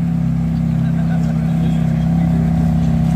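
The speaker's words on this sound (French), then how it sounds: "Fameuse F430 avec son V8 qui fait une belle sonorité." Ferrari F430 with its V8 idling at a car meet, a loud, steady engine rumble that rises slightly toward the end, close by and continuous.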